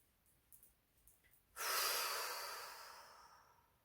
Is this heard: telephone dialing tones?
no